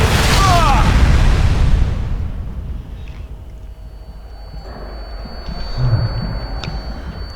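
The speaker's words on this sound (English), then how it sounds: "The Germans are using Nebelwerfer." Nebelwerfer rocket explosions in the video game Sniper Elite 3: a loud booming blast with a whooshing tail at the start, fading into a quieter rumble, with another muffled thud later.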